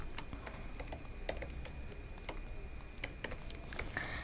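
Rapid keystrokes on a computer keyboard while coding a React web page, a steady run of close, crisp clicks with irregular spacing and no voices.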